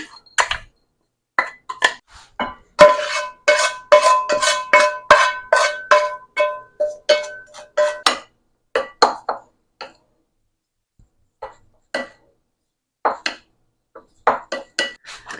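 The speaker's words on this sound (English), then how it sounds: "The rice is all done, so I'm going to mix up this stuffing." A spoon clinks and scrapes against a bowl while cooked rice and curry zucchini stuffing is mixed, with bursts of rapid metallic tapping broken by short quiet pauses.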